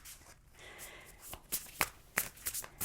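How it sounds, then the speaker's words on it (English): A deck of tarot cards is shuffled close by, quiet at first, then a series of crisp riffles and snapping flicks during the reading. "One more shuffle, please."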